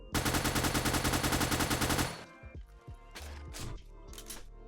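A Carbine 15 rifle from a 5.56 weapons pack mod in the video game 7 Days To Die fires a loud, rapid automatic burst of about two dozen even shots, then a few scattered single shots and clanks trail off.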